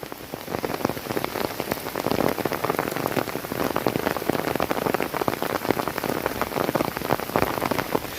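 Heavy rain falls steadily on a windless morning in open rural farmland, a dense, constant hiss and patter of drops that stays loud throughout, with no voices.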